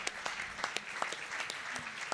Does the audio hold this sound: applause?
yes